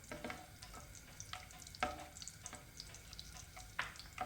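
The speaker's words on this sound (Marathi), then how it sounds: "1 दालचिनीचा तुकडा आणि 4 लवंगा घालणार आहोत. आणि यांना जरासं याच्यामध्ये भाजून घ्यायचं आहे." Whole cinnamon stick and four cloves roasting in hot oil and ghee in a pan for a dhaba-style whole masoor curry, giving a soft continuous sizzle broken by scattered spoon scrapes and stirring knocks, with no talk.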